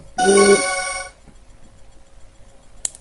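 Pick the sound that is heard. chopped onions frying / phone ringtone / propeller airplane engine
phone ringtone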